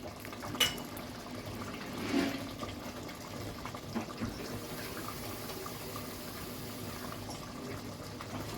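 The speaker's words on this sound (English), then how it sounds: "You've got to pour the water now inside." Water poured from a glass into a cooking pot while making egg curry: a faint, steady splashing rush that runs throughout, with a few light knocks, under a low background hiss.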